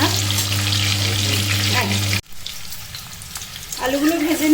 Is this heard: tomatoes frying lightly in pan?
yes